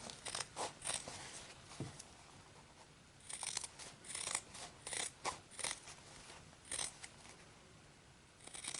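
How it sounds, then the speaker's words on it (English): Scissors snip through fabric to cut out a small pincushion along a guideline, giving a series of close, crisp cuts in bursts with short pauses between them. "So I'm just going to cut it out on my guideline."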